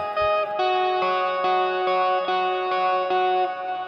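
Electric guitar played through an iOS AmpKit and iRig Blueboard setup with distortion and a Crystalline shimmering effect, sustained chords changing in a steady rhythm with a thick, washed-out tone.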